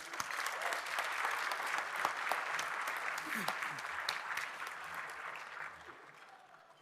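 An audience at a fraternity's biennial convocation applauds its scholastic excellence members with a sustained, dense round of clapping that fills the hall evenly, then gradually thins and fades toward the end.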